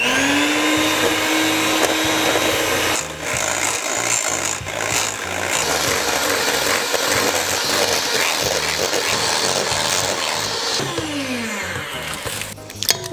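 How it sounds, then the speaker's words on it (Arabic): An electric hand mixer whips cream for a cake, running as a steady loud motor whine. It starts at low speed, then the pitch climbs as it is switched higher, and keeps whirring through to the end. "أول 30 ثانية راح أخفق على درجة قليلة وبعدين راح أزيد الخفق إلى أن يدخن وياي المزيج"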